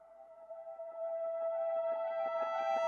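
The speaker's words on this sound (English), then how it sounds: "I decided to chop just this last note and reverse it" A reversed final guitar note in an ambient sample built in FL Studio swells steadily from near silence to full volume as a sustained, shimmering tone, then cuts off abruptly at its peak.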